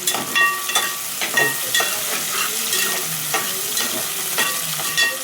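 Upma of fine semolina being stirred in an oiled pan, with steady frying sizzle and repeated scraping strokes of the spoon throughout, close and fairly loud with no talk.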